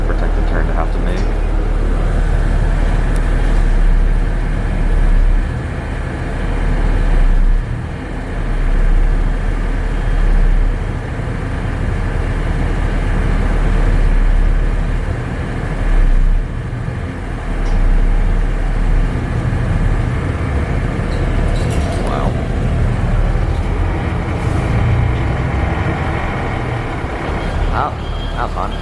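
Interior of a city bus in Taiwan on the move, a continuous loud engine rumble and road roar with swells as it accelerates and turns, speech faintly present in the background.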